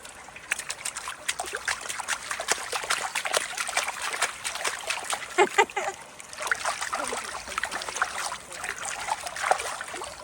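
Water trickles and splashes continuously down a small brook-like stream outdoors, a close, busy burble of drips and gurgles with no talk.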